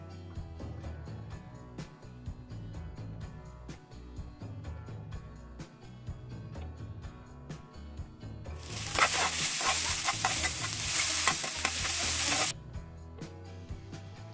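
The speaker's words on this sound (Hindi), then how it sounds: "भिंडी को 4 मिनट फ्राई करेंगे और इस दौरान आप मुसलसल इसमें चम्मच चलाते रहें।" Okra frying in a pan while being stirred continuously with a spoon, a bright hissing sizzle swelling up loudly for a few seconds over a steady low background hum, with faint scraping under it.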